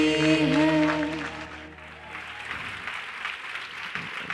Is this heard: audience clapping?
yes